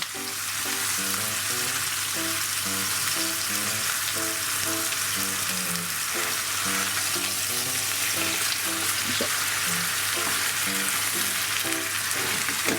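Char siu pork sears in a pan with a loud, constant sizzle and crackle as it browns, while steady background music plays underneath.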